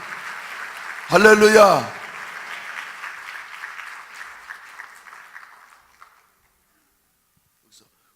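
A church congregation gives scattered applause during an evening Sunday worship service; a short spoken exclamation rises over the clapping, which stays moderate and thin and fades out within a few seconds into near silence.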